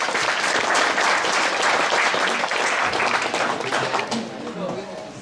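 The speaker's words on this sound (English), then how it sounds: "Big applause for that." A crowd at an outdoor metal detector jamboree claps loudly and steadily for around four seconds, then the applause fades and scattered claps trail off.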